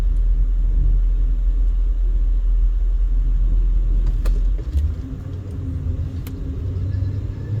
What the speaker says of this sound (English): That is the bus that goes up and down between Fremont Street and the Strip here.